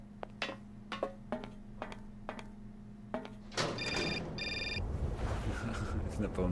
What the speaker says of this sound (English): The phone's going off again.